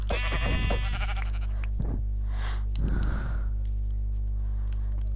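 A Minecraft sheep bleats loudly and close by, in a couple of wavering calls over a steady low hum.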